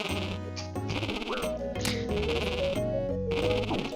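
A desert goat bleats in a video game, with a wavering, nasal cry over steady, dense game music and effects that continue throughout.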